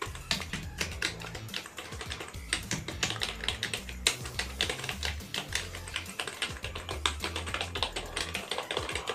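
Rapid typing on a Kitech KB011 wired USB keyboard, close crisp key clicks in quick irregular bursts, with no voices.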